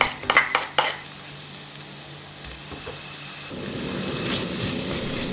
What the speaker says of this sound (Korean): 꼭 다진 마늘과 파를 먼저 볶아주세요.